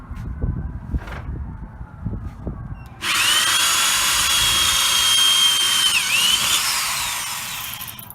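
A power drill bores into wood with a loud, steady high whine that starts abruptly partway through and runs to the end, dipping briefly as it bites.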